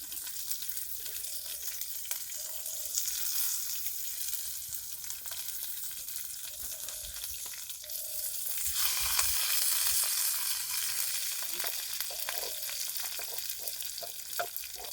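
Green chillies fry in hot oil in a pan, giving a steady close sizzle with a brief louder burst of crackling midway and light stirring clinks.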